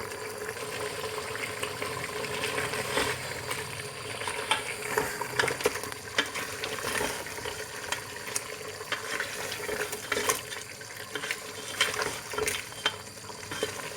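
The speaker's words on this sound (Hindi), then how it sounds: "अब इसे थोड़ा सा भूनेंगे।" Champ curry with coriander powder and red chili powder frying and being stirred in a pan, a steady close sizzle with scraping stir strokes and clinks throughout, no talking.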